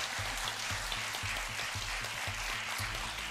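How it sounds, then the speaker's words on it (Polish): An audience claps steadily, a dense, even patter of many hands applauding without pause throughout. "brawa, brawa i się należą na początek"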